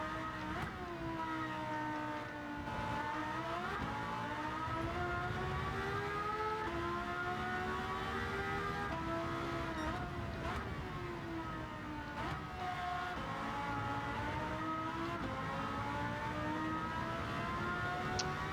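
A Porsche GT race car engine in the Gran Turismo 7 video game, on the Sardegna Road A track, revving steadily at high pitch, rising and dipping through gear changes without pause.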